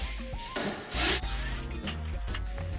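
The wooden side panel of a shipping crate holding a Royal Sovereign RSC 1650LS laminator is removed, with close scraping and rubbing wood noises and one brief, louder rasping burst.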